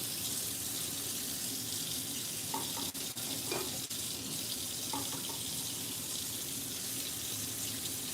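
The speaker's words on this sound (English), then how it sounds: "I just need to rinse my hands off." A kitchen tap runs steadily into a sink while hands are rinsed, a constant hissing water stream with small splashes and brief clatters partway through.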